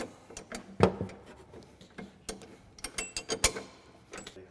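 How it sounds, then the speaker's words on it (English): Wrenches snugging down the bolts and nuts of a 4-point harness on a Polaris RZR RS1, giving sparse close metallic clicks, ratchet ticks and taps at an irregular pace. "So I'll go ahead and snug those down with a couple wrenches"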